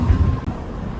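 Steady low wind rumble buffeting the microphone, constant and fairly loud throughout with a brief dip midway.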